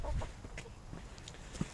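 Australorp chickens, a rooster and a hen, cluck softly in a coop. The sounds are faint, scattered and close by.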